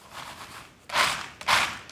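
Cooled salt-roasted peanuts shaken in a flat tray give a soft rustle, then two loud, close rattling bursts of dry kernels.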